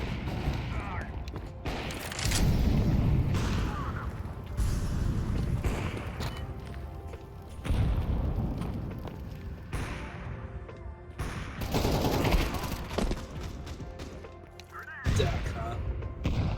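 Bursts of AK rifle gunfire in a Counter-Strike style shooter game, loud dense volleys and thumps recurring across the clip, mixed with game noise and some speech.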